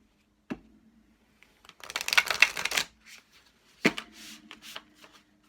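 A thick deck of herbal healing oracle cards is shuffled by hand, heard as two riffling bursts of papery fluttering with sharp taps on a surface between them, close and clear, with no talk.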